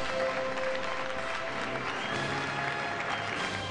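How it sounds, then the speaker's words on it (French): Audience applause at an award ceremony, a dense, steady clapping from a crowd that stays even and moderately loud throughout, without voices. "Veuillez applaudir Federico Fritzenwalden"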